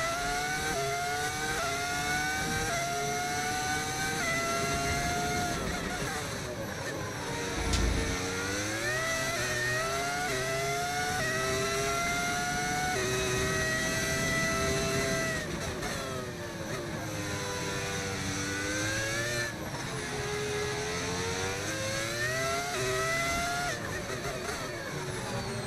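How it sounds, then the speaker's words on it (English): A V10 engine audio mod on a Formula 1 car in the F1 25 racing game whines loudly through the gears, with repeated rising and falling revs as it brakes and accelerates through corners. "This car actually sounds amazing. It's a the V10 mod, V10 audio mod."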